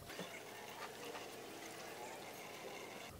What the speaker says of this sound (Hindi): टैप वाटर हम तब तक चलाएंगे जब तक रेडिएटर के अंदर से साफ़ पानी आना शुरू नहीं हो जाता।